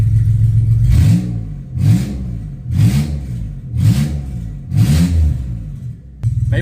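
A car engine with its oil replaced by maple syrup and butter revs up five times in a row, each blip a loud rising vroom falling back to a rough, lumpy idle, close by.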